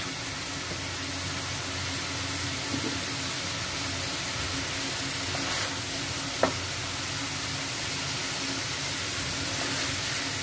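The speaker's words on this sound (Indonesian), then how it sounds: "Kalau kadar air yang ada di dalam bumbu tadi sudah menutup, kita masukin pepaya mudanya." Young papaya goes into a simmering spice paste for papaya lodeh, giving a steady close sizzle and bubbling with faint stirring, a soft clink around the middle, and no talk.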